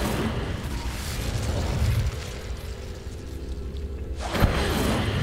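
Incendio fire spell cast in Hogwarts Legacy, a sustained roaring whoosh of flame that thins out before a sharp burst near the end, with no voices over it.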